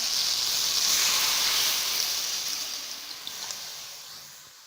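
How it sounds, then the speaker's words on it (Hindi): Water poured into a hot pot for desi chicken yakhni soup sets off a loud, steady steam hiss that slowly fades over a few seconds, close by and alone. "इसके अंदर हम पानी ऐड कर देंगे"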